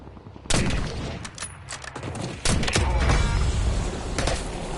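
Gunfire in a Call of Duty match: loud bursts of shots crack in at about half a second and again near two and a half seconds, with scattered single reports and rattling between them and no talk.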